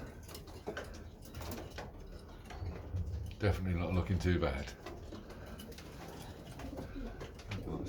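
Young pigeons in a loft give low, soft cooing under a man's nearby speech, mixed with light scratching and ticking sounds.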